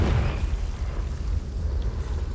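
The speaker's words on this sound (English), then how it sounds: "Which is why we're going to throw fire at it." A Confringo fire spell exploding in Hogwarts Legacy, a dense, sustained low rumbling blast that holds steady and loud for a couple of seconds with no talk over it.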